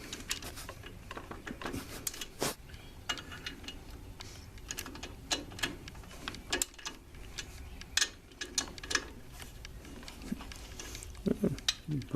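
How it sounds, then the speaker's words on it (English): A torque wrench clicks and ratchets while bolts are tightened on a lawn tractor, producing irregular sharp mechanical ticks and clatter close by. "so I get the torque wrench."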